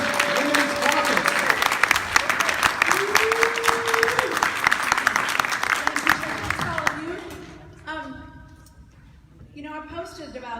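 A rally audience gives a big round of applause for the chair of the California Democratic Party Women's Caucus. The clapping is loud and continuous for about seven seconds, then fades as a speaker begins talking.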